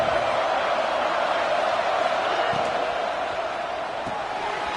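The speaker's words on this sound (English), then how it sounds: "Listen to the crowd energy here in the early going." A stadium crowd at an Arizona State football game keeps up a dense, continuous roar with faint thuds and cheers mixed in, loud and sustained throughout.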